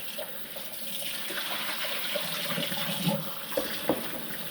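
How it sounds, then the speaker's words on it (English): Cold water runs from a kitchen tap in a steady, moderately quiet stream, with a few splashes and knocks of items being rinsed while fried salt fish is being prepared. "So I'm gonna add some cold water now."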